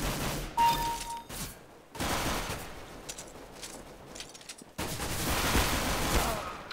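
Sustained automatic gunfire in Counter-Strike: Global Offensive, played offline against bots, coming in loud, dense bursts broken by brief pauses, close and continuous with no talking.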